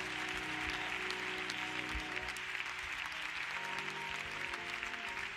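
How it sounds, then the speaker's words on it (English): A camp meeting congregation claps together in praise, a dense, steady wall of hand claps that holds at an even level throughout, with some low room rumble beneath and no one speaking over it. "give Jesus a great hand clap of praise and thanksgiving"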